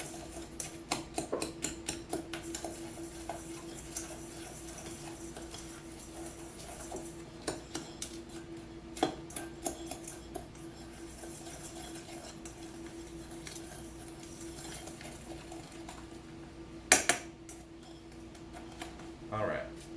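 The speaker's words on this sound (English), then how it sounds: "Alright, so we're going to mix that up." Ingredients for a roast chicken being stirred together in a bowl, producing light repeated ticks and clinks of a utensil against the dish, faint under a person talking.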